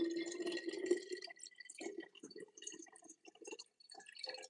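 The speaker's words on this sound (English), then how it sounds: "Of course, I got to pour in some of my water." Tap water pours into a laboratory flask, a close, quiet gurgling trickle with bubbly splashes that come in uneven bursts and pauses.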